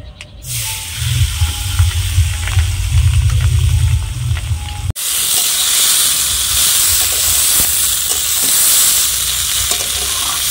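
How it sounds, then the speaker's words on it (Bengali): Rice fries in a pan of oil with whole garam masala for a Bengali pulao, a quieter crackle that jumps to a loud, steady hiss and sizzle partway through, close up with faint stirring beneath. "এখন চালটা একটু ভেজে নেব।"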